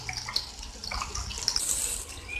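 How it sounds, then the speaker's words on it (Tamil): Tamarind water is poured into a fish curry paste for Tamil meen kulambu, giving a soft, close liquid splash and trickle that runs for a couple of seconds with small clinks. "இப்போ இந்த புளி தண்ணியை இதில் விட்டுடலாம்"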